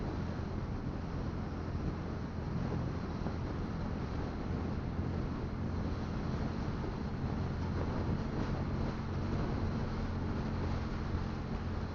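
Steady buffeting wind roar on a hot, windy day while riding a motorcycle fills the whole stretch, a constant dull rumble against the microphone with no pauses or voices.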